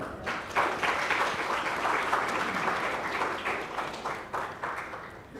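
Audience applause at a university CSR conclave on sustainability goals, heard as moderately quiet, even clapping from a crowd that continues steadily before softening slightly toward the end.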